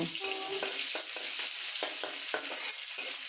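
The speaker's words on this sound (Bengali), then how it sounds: "এখন আমি লাউ দিয়ে ডাল রান্না করছি" Dal with bottle gourd cooking in a pan gives a loud, close frying hiss, with short stirring scrapes repeating every half second or so and no voices.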